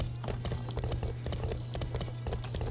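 A courier horse is trained in Life is Feudal, with its hooves pounding out a rapid, continuous clip-clop gallop over a low steady rumble, close and prominent, with no voices.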